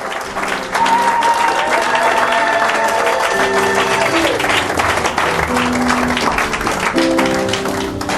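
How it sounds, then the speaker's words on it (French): A church congregation at a French-language worship service applauds steadily with dense rhythmic clapping and cheering, while music and singing carry on underneath. "On va acclamer le Seigneur."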